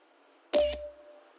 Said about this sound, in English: a picture should be taken as potential evidence